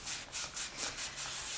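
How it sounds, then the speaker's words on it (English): A polymer clay bowl is sanded by hand with fine sandpaper, 400 up to 1000 grit, in quick, even back-and-forth strokes, about six close, crisp rasps in a steady rhythm. "until I've sanded my entire bowl from my 400 all the way up to my 1000 grit"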